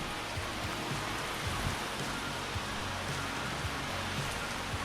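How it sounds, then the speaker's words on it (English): Heavy rain falls in a steady dense hiss with scattered drop patters on a surface, continuous and even, with no talking. "At least we're gonna have to wait until the rain calms down a little bit."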